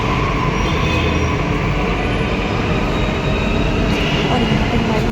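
A metro train at a crowded station, a loud steady rumbling roar of the train running throughout, with no clear voices.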